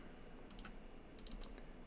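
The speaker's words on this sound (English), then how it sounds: "Just double clicking to open these." Faint, close computer mouse clicks, two quick double clicks spaced about a second apart, over a quiet room hiss.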